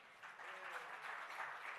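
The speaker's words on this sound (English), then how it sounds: "So a huge round of applause for him." An audience at an awards ceremony gives a brief burst of applause for an honoree; the soft, even clapping sounds somewhat distant and lasts under two seconds.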